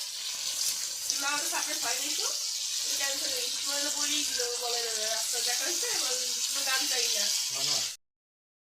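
About two kilograms of prawns sizzle loudly and steadily in hot oil until they turn lightly red, a dense bubbling hiss with a faint voice-like tone over it, cutting off abruptly at the end.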